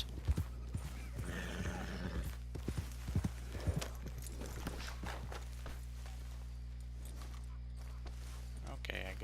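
A horse in Red Dead Redemption 2 walks with quiet, uneven hoof clops over a constant low game hum, mostly in the first few seconds, with a brief whinny-like sound and faint speech in the background.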